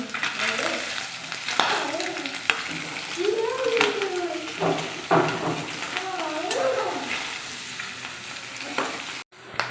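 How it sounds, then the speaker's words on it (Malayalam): Pork pieces for a Kerala-style pepper pork roast sizzle steadily in hot oil while a spoon stirs and scrapes the pan, and a voice talks intermittently over the crackling. "ഇനി ഇതിടയ്ക്ക് ഇങ്ങനെ ഒന്ന് ഇളക്കി കൊടുക്കണം."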